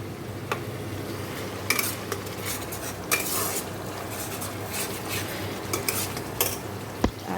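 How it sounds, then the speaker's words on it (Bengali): A metal spoon stirring and scraping spices frying in a pan for chicken curry, with a soft continuous sizzle, occasional sharp clanks against the pot, and no talking. "তো চলো মশলাটা কষিয়ে নিই"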